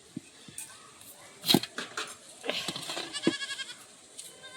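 Goats kept at a rural Sundarbans household bleat several times in short, close calls, with people talking nearby over and between the cries.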